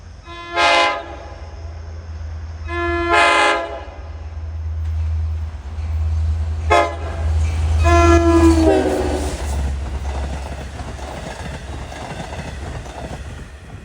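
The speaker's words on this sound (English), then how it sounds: "Here comes train 22 en route from Jamaica to far eastern Montauk. Leader is D30AC 417." LIRR train 22 passes with D30AC locomotive 417 leading, sounding two loud horn blasts and a shorter third before the deep rumble and clatter of the train rolling by.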